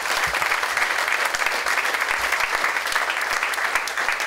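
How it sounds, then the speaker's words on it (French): A church congregation applauds during a service: steady, dense clapping from many hands fills the room, sustained evenly from start to finish without pause. "On va applaudir la parole de Dieu"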